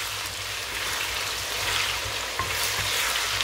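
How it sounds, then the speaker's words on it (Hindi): Potatoes and beans fry in a pan for a dry masala with cumin, giving a steady, close hissy sizzle with faint low hum beneath and a small clink near the end, no voices. "तो अभी इनको हम अच्छे से फ्राई कर लेते हैं।"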